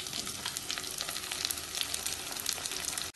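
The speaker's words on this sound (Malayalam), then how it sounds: "ഇതിനി ഇളക്കി വഴറ്റാം ചെറിയ ഉള്ളിയും വെളുത്തുള്ളിയും വാടി തുടങ്ങുമ്പോൾ" Shallots and garlic sautéing in oil in a pan for a chow chow curry, a close, steady, busy sizzle with faint stirring, with no talking.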